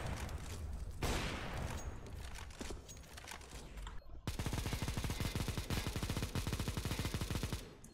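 Rapid machine gun fire from a video game, a loud sustained burst of fast rhythmic shots after earlier scattered gunfire, with no talk over it.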